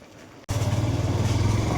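A motorcycle engine suddenly roars into a loud, steady, throbbing drone, close by, after a moment of quieter background.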